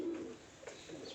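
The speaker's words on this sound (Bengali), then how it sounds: "অনেকগুলো কবুতর আছে" Racing pigeons, including red checkers, coo in a low, brief burst close by, with faint higher chirps following.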